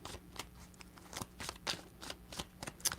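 A deck of tarot cards is shuffled in a rapid flurry of papery riffles and soft slaps, close and quiet, with no voices.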